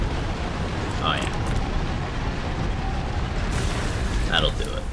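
A poison sword explosion going off in a video game, a broad rumbling blast with sharp bursts of crackle near the start and end, loud and close over constant background roar, with a voice talking over it.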